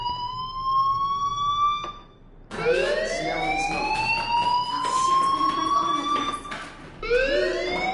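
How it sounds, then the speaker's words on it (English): A fire alarm sounding in the video game Life is Strange, a loud whooping electronic tone that rises in repeated sweeps with a short gap between cycles, filling the room alone. "Hey, do you hear that fire alarm?"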